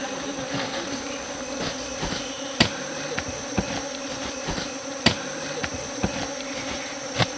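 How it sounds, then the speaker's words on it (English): Bees buzz densely all around in the Congo jungle, a constant close insect drone with scattered sharp clicks and knocks punctuating it. "The further we walk away, the bees tend to leave us alone."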